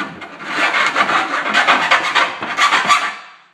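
A hand file rasps over the rough edges of a window cut into a PC case, giving quick repeated scraping strokes in an even rhythm. The sound is close and loud with no voices.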